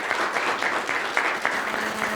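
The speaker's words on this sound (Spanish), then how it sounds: "Un aplauso, por favor," Audience applause at the close of an investigative journalism dialogue event, honoring a speaker: dense, steady clapping from a crowd with no voices, holding at an even level throughout.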